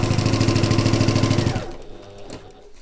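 A sewing machine stitches a quarter-inch seam around the top of a fabric sack, a steady rapid mechanical chatter for about a second and a half before it stops and fades to quiet.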